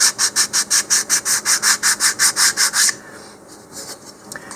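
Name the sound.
lightly sanding sanding sealer off model rocket fins with 220 grit sandpaper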